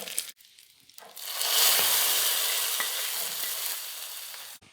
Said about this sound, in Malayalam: കടുക് പൊട്ടി കഴിഞ്ഞപ്പം കറിവേപ്പിലയും വറ്റൽമുളകും കൂടെ ചേർത്ത്